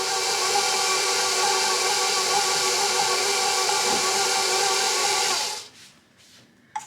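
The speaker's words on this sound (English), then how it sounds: "I'm gonna go ahead and set that up in my mixer." Stand mixer creaming butter and sugar for vegan pumpkin cookies, a steady loud motor whir running alone for several seconds, then cutting off abruptly.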